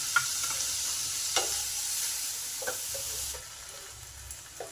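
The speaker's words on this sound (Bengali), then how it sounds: "যতক্ষণ না মশলার কাঁচা গন্ধটা যাচ্ছে ততক্ষণ একটু কষবো" Spice paste stir-fried in a pan with a little water added, for a pumpkin, drumstick and potato dish: a steady, close sizzle broken by a few scraping stirs, with no one talking.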